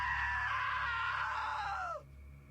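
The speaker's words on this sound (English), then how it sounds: "Now that was a great scream." A loud, sustained scream in the video game What Remains of Edith Finch, a single drawn-out shriek that holds steady for two seconds and then cuts off abruptly, leaving a low background hum.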